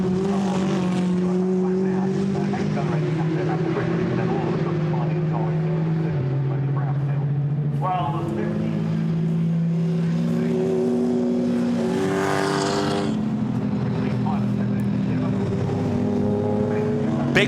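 GT race cars at Oulton Park in the British GT series lining up behind the safety car, several engines droning and shifting pitch together at moderate volume beneath continuous commentary.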